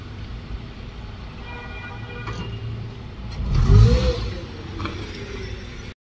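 A car is driven off on a location shoot, its engine revving up to a brief loud surge midway over low background noise, then settling back down.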